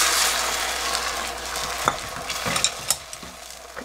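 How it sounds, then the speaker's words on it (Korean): Beaten egg for an omelette hits an oiled, well-heated pan and sizzles with a bright, steady hiss, followed by scattered clicks and scrapes as it is stirred, close and fairly loud, with no talking. "불이 어느 정도 달아졌다 싶으면은 이렇게 짜작 소리 날 때쯤 넣습니다."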